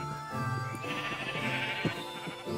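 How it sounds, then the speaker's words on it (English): Pink sheep in the video game Minecraft bleat in a steady, wavering, nasal run of cries lasting a couple of seconds, fairly loud and close, with no talking. "We have too many pink sheep."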